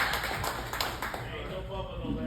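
A comedy club audience in Tyler, Texas claps and cheers, a burst of quick, fairly close hand claps that thins out and fades over a couple of seconds.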